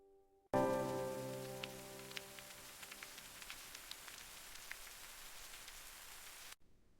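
Rain falling steadily on a surface during a family road trip, a soft continuous patter with scattered louder drops, starting abruptly after a short tonal chime and cutting off just as suddenly.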